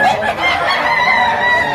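A chicken clucks and calls loudly and close up in a single short burst at a poultry auction.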